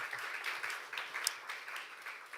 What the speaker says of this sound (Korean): 우리 격려의 박수 한번 보내겠습니다.